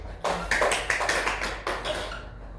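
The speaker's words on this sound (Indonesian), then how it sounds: "Berikan tepuk tangan buat Julianson." Students applaud in a classroom with brief, moderately close clapping that rises suddenly, holds for about two seconds and fades out.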